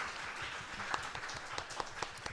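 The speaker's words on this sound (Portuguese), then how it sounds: "Palmas para o Rafa." Soft applause from a small gathering at a Spiritist psychology talk, a faint, thin patter of hands with a few sharper individual claps standing out near the end.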